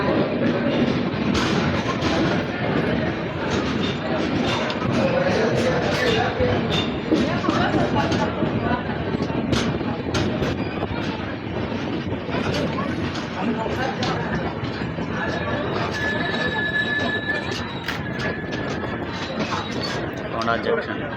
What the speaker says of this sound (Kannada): ಲೋಂಡಾ ಜಂಕ್ಷನಿಂದ ನಮ್ದು ಗೋವಾ ಎಕ್ಸ್ಪ್ರೆಸ್ ಈಗ ಡಿಪಾರ್ಟ್ ಆತ್ರಿ